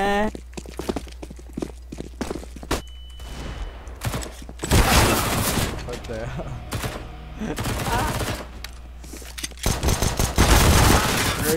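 Gunfire in the game CS:GO crackles in rapid bursts and single shots over constant game noise, with players talking throughout.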